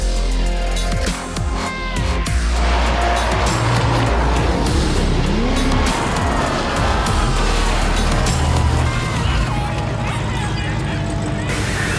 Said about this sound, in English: This is round 2 of the Formula Drift Pro Championship.